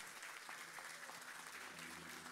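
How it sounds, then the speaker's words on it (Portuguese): Applause for an architect at an event announcing a new international art museum in Foz do Iguaçu: a short, even wash of clapping from a crowd, heard alone at moderate distance. "Uma salva de palmas ao Solano Benites."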